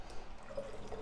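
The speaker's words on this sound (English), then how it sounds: "Then we're going to add some of our water" Water poured through a funnel into a bottle while making homemade Cabernet Sauvignon, a soft steady trickle and splash with a faint gurgle, close and quiet, with no one talking.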